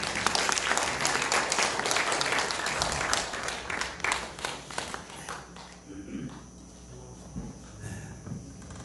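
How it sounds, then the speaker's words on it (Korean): A church congregation applauds to welcome a young member back. The clapping is brisk and fairly close for about five seconds, then tapers off into scattered claps and room murmur. "우리 박수로 한번 환영하겠습니다."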